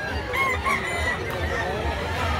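Gamefowl roosters crowing and clucking at a market in Cebu, several birds overlapping in a dense, steady chorus with bright calls rising above a constant low rumble of background noise.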